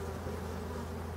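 Hornets buzz steadily around beehives, a continuous droning hum of insect wings that stays close and fairly loud throughout, with no talking.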